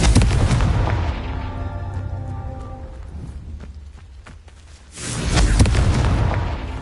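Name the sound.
Confringo blasting curse explosion, Harry Potter video game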